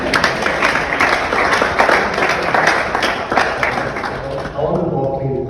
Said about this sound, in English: maybe so round of applause for you.